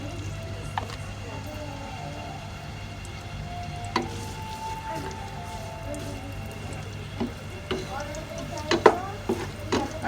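Onions hit hot oil in a non-stick pan, a soft steady sizzle with scattered crackles and pops, fairly quiet and continuous throughout.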